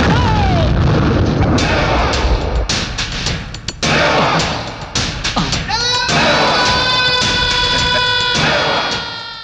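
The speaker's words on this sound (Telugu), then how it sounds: "రే యాదగిరి, నువ్వు నీ పోరంబోకులు నిలబడ్డ ప్రతి గజానికో బాంబు ఫిక్స్ చేశా. ఇది శాంపిల్ మాత్రమే." Bomb blasts in a Telugu action film scene, with loud booming thuds and bursts in quick succession, rumbling debris and ringing tones after, dense and close.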